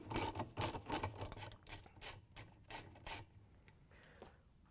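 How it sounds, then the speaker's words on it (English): A ratchet with an extension and 7/16 inch socket clicks rapidly in short bursts while loosening the agitator bolt in a Whirlpool washer, close and crisp, then falls quiet as the bolt frees. "To get the agitator bolt out, we're going to use a 7/16 inch socket with the extension and a ratchet."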